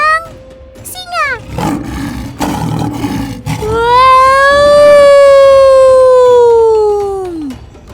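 A lion gives one long, loud, sustained roar that swells and then trails off, heard close and alone after a few brief, fainter calls.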